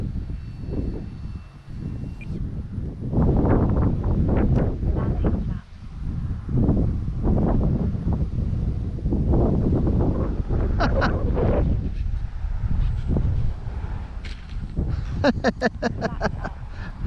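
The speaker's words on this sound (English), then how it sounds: "oh boy, that wind." Strong wind buffets the microphone in low rumbling gusts while someone talks over it at a model power glider flying field, with brief faint higher tones near the end.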